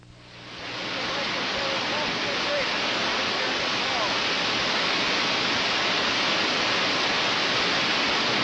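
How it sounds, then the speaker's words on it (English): Iguaçu Falls on the Iguaçu River at the Brazil–Argentina border, a vast waterfall roaring as a dense, steady, loud wash of falling water that swells in during the first second and then holds unbroken. "one of the world's greatest water spectacles, the famous falls at Iguaçu"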